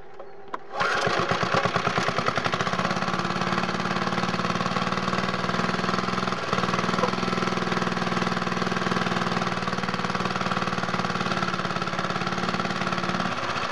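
A cold boat engine starts up with a sudden roar and then runs at a loud, steady, buzzing idle close by, with one brief dip partway through and no voices.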